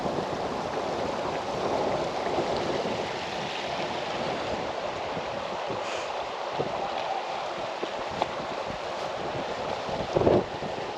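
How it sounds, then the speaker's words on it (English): Water of the river emerging from underground at the base of Malham Cove on a wet, windy day, a continuous rushing flow mixed with heavy wind buffeting the microphone, no voices. "Runs an underground water system and comes out the bottom here."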